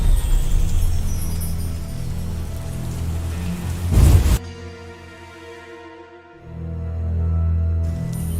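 Rain falls steadily and fairly loudly with dense patter for about four seconds, then cuts off into quieter tonal sounds before a low rumble swells near the end.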